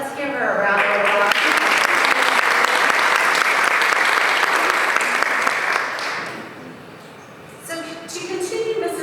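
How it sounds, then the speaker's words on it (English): Loud, sustained clapping from an audience at a governor's summit on early literacy, rising quickly, holding for several seconds, then tapering off before a brief second burst near the end. "let's give her a round of applause"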